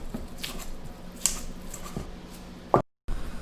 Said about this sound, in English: Put the potatoes into a bowl, mash it using a fork.